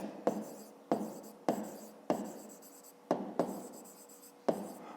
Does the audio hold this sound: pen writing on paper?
yes